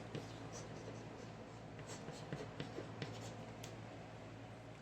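A pen or marker writes out a proof by induction on a board or page, scratching in short irregular strokes over a steady background hum, close and fairly quiet.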